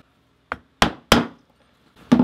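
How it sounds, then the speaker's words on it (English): A metal strap end punch is struck through a leather cuff strap, giving four sharp, loud hammer blows at an uneven pace with brief ringing decays, close up and with no talking. "we're going to get our strap end punch, and I like to punch, it's like a little less than an inch from the last hole"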